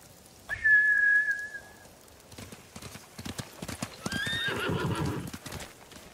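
Samurai horses in Ghost of Tsushima give a sharp whinny, then hooves clip-clop and thud as they run off, fairly close and growing busier toward the end.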